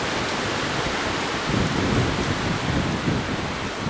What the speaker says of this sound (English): the wind's getting up now